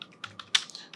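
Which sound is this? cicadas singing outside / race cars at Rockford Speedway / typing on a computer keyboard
typing on a computer keyboard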